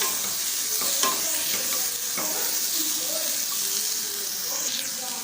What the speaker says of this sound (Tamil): கட் பண்ணி வச்ச ஒரு தக்காளி பழத்தை சேர்த்துடலாம்